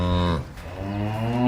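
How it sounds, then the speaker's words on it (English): A cow gives a single low, drawn-out moo, loud and close, with the pitch dipping briefly before the call carries on, heard alone without talk. "Cow sound is"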